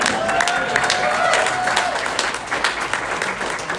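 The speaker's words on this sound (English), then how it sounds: "Let's give him a round of applause for that." Audience applause at a membership meeting, steady dense clapping from a crowd throughout, fairly close and loud, with a faint voice briefly audible early on.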